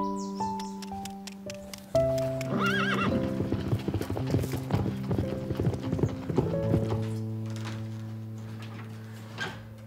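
A horse's hooves clip-clop steadily through a ride while the animal neighs and whinnies several times, close and clear over a background of music.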